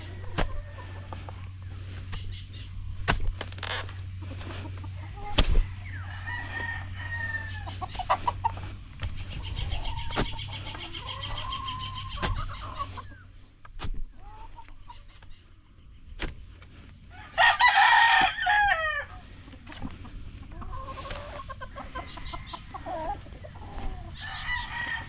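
A rooster crows loudly nearby once near the end, with softer clucking and scattered bird calls over a low hum earlier.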